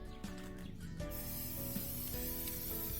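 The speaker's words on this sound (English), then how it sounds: "Home Depot spray paint." A can of Home Depot spray paint hisses steadily in close bursts, the airy spray continuing with brief pauses and no talking.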